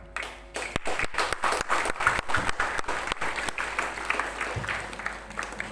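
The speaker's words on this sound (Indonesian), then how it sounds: "kita beri aplaus untuk peserta maupun petugasnya" Applause from participants and officials at an Indonesian school flag ceremony, a burst of many hands clapping that starts sharply, holds steady, then thins out, heard moderately loud outdoors without talk.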